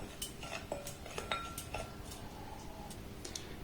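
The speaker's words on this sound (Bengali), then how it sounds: "এবার লবণটা দেওয়ার পর এটাকে একটু নাড়াচাড়া করে এইভাবে মিক্সড করে নেব।" Pitha batter made with semolina is stirred after salt goes in, a spoon clinking and ticking lightly against the bowl in scattered taps over a faint background hush, quiet and close.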